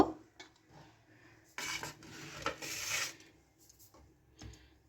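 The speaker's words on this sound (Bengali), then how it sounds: "আমি কাঁকরোলগুলোকে কেটে নেব" A knife cuts through spiny gourds (kakrol) on a board, giving soft scraping strokes and a few louder rasping slices close by, with quiet pauses between cuts.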